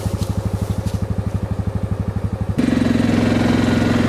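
A four-wheeler ATV engine runs on a farm trail, first chugging with a steady, loud, pulsing rhythm, then shifting abruptly to a faster, smoother, higher-pitched drone.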